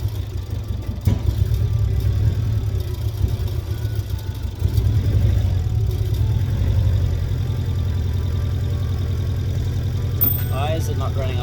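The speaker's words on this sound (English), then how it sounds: "Why is it not running on all cylinders?" A 220whp turbocharged Mazda Miata idles with its engine not running on all cylinders. A steady, close low rumble holds throughout with slight unevenness, and a brief voice sounds near the end.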